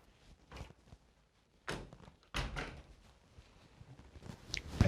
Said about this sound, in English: please come in and shut the door